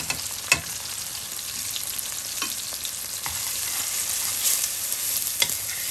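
Spices frying in a pan with onion, garlic and tomato, a steady close sizzle with occasional stirring scrapes and small pops, no talk.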